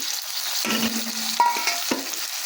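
Ginger and garlic sizzle in hot oil with spices in a pan alongside fried onion and tomato, a steady close crackle broken by a few sharp stirring scrapes and clinks over about two seconds.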